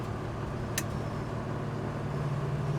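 Steady low drone of a 1968 Plymouth Roadrunner engine cruising at about 50 mph, droning evenly with road noise from inside the car, with one brief click partway through.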